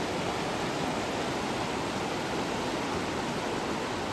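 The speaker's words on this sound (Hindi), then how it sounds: "पहाड़ों में बारिश है उसके कारण ये पानी लगातार बढ़ते हुए जा रहा है" A mountain stream swollen by rain in the hills near Chukum village, Jim Corbett, rushes in a steady, dense roar of flowing water that stays loud and unbroken throughout, with no voices.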